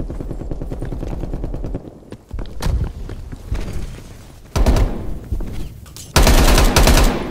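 Bursts of automatic gunfire and heavy shots in a Black Ops: Cold War team deathmatch, loud and dense, with sharp volleys building toward the end and no talking.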